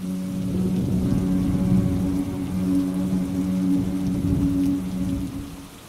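An air conditioning unit gives a steady, low electrical buzz with a constant tonal hum running throughout, alongside broadband background noise on a hot, humid day in the UK. No one speaks.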